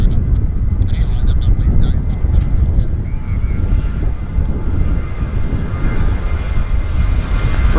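Plane departing Vancouver airport with a loud, continuous broadband engine roar that stays steady and close throughout, with a few faint higher-pitched sounds drifting above it.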